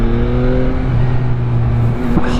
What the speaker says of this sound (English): Listen to that stock exhaust.